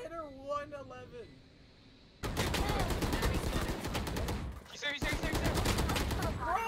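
Gunfire in the shooter game Valorant crackles in rapid bursts, loud and dense, with a brief gap between volleys, following a short stretch of tonal game sounds at the start.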